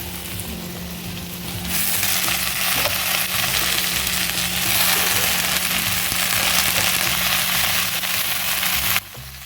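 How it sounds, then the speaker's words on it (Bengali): Potato, eggplant and greens are stir-fried in a pan, giving a loud, steady sizzle that starts a couple of seconds in and runs almost to the end, with faint stirring scrapes underneath. "আলু বেগুনটা এখানে ভালো করে নাড়া হয়ে গেছে, এবার এর মধ্যে শাকগুলো দিয়ে দেবো।"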